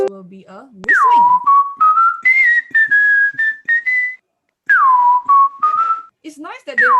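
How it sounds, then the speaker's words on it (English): A person whistles a tune up close, with clear sliding notes and short phrases separated by brief pauses. "this will be a whistling."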